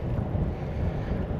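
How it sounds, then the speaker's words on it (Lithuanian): Strong wind roars and buffets the microphone in a steady, heavy rush while cycling along country roads through villages. "Nežinau, ar girdėsis. Vėjas didelis."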